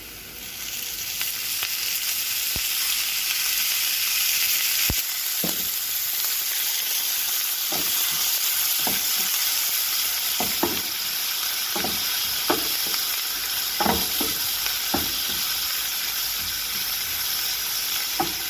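Meat frying in olive oil for machbous laham, a steady close sizzle throughout with occasional sharper crackles and pops, no talking.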